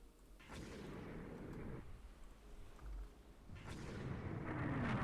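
Warships firing torpedoes in Rule the Waves 2, a naval battle game: two muffled, fairly faint launch bursts about three seconds apart, each trailing into a low rumbling wash.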